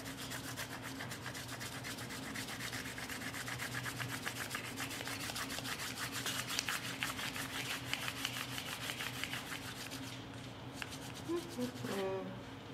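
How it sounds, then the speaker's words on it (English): Crayon rubbing steadily over a leaf laid under paper, a continuous scratchy scrubbing with fast back-and-forth strokes, close and even, briefly pausing near the end. "Now you have a leaf rubbing."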